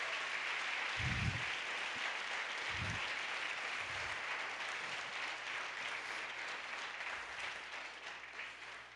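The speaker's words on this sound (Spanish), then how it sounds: "¿Por qué no se lo das bien fuerte ese aplauso?" A church congregation gives a sustained round of applause, a soft, distant wash of clapping filling the room at low level, with a few low thumps underneath.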